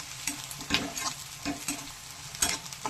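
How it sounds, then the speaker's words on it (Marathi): Mutton being stirred and sautéed in a pan, a steady sizzle of frying meat broken by a spatula scraping and clanking at irregular intervals, close by and with no speech. "हे छान परतून घेऊया आपण आधी"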